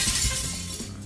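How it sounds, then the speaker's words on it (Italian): Glass shattering sound effect, a loud crashing burst of breaking glass with bright scattered fragments that fades quickly within about a second, no voices over it. "quella della Roma non è un vetro che si rompe, sono vetrate del grattacieli di New York che si rompono"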